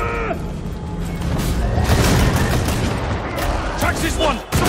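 Gunfire in the Warhammer 40,000: Darktide shooter game, a dense rapid fusillade of shots with mechanical clatter, loud and close, under brief shouted voices and game effects.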